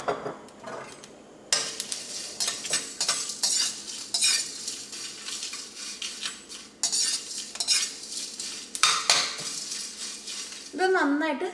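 Fenugreek seeds, black pepper and dried red chillies roast in a pan over already-popped mustard seeds for a tomato theeyal. Repeated scraping stirs and metallic clinks of a spoon against the pan sound close and loud over a light sizzle.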